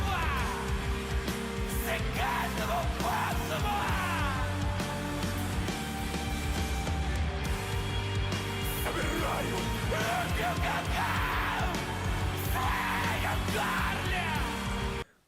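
Harsh screamed vocals over dense, loud band music with driving drums and distorted guitars, the shouting rising and falling throughout.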